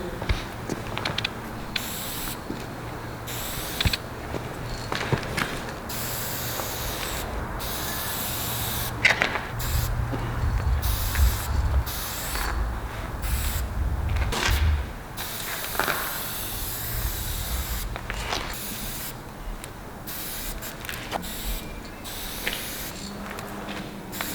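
Steady hissing bursts of a spray paint can used for graffiti, repeated in short and longer blasts, fairly close, with a low hum underneath.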